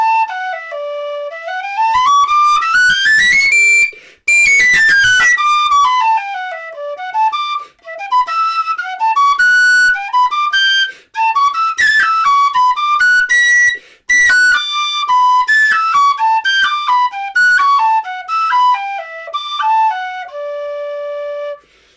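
A Weston pistachio wood whistle, new and still being broken in, plays the traditional tune Easter Snow, clear and close, with bright ornamented runs of notes and short breath pauses, alone with no talk.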